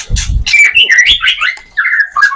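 A male white-rumped shama (murai batu) songbird sings close by, loud and clear. Bright whistled phrases rise and fall, and a short low rustle comes before them.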